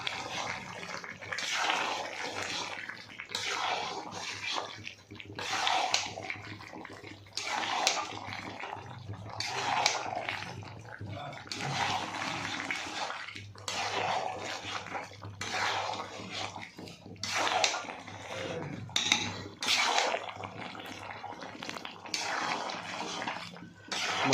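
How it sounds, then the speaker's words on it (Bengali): A spoon works through thick mutton kasha in a pot, giving repeated irregular scraping, squelching strokes against the pot, close and moderately loud, in bursts with short pauses between them. "এটা একটু ভালো করে মিক্স করে নেব।"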